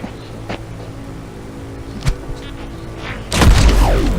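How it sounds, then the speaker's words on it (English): In the game Mutant Year Zero, Max's EMP grenade bursts with a sudden loud, heavy boom that rumbles on, after a quiet stretch broken by a sharp thud. "I'm going to let Max do his thing with his EMP grenade"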